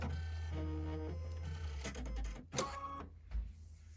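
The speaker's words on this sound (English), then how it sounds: "I'm going to go ahead and rethread my machine back with my brown thread" A quilting sewing machine being rethreaded with brown thread, with a mechanical whirring hum and tonal whine followed by a couple of clunks and clicks as parts are handled close by.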